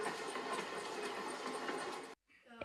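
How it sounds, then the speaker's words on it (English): Trains carrying evacuees pull into Uzhhorod railway station in Ukraine, a steady loud rumble and rolling clatter of rail cars filling the scene before cutting off abruptly near the end. "One after another, trains with evacuees roll in."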